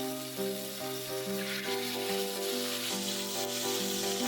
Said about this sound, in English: Add black pepper and fry them lightly.